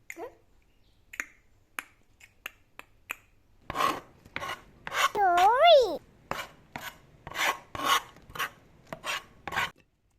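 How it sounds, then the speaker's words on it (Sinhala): A knife cuts kernels off corn cobs, first with a few sparse scrapes, then a quicker run of close, crisp cutting strokes; a voice speaks briefly midway. "ඊට පස්සේ මේ ඉඟු කරල් ටික මේ විදිහට කපා ගන්න."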